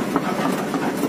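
An FH200 excavator travelling slowly on its tracks while preparing ground, giving a steady rumbling, clanking machine noise with a rhythmic rattle, close and continuous, with no voices.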